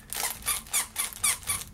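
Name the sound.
crinkly newspaper dog toy squeaking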